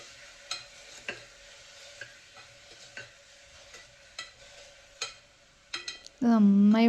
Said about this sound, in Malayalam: ഇനിയിപ്പോൾ ഇതിലോട്ട് കുറച്ച് ഉപ്പും കൂടി ഇട്ടിട്ട് ഞാൻ വഴറ്റിയെടുക്കുന്നുണ്ട്.